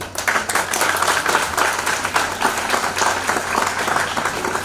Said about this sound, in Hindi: आप लोग अपने लिए जोर से ताली बजाएं